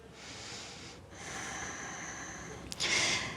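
Steady audible breathing from a person holding a pose in a vinyasa yoga flow, a long airy exhale-like hiss that swells slightly and ends in a sharper breath, close and alone without talk.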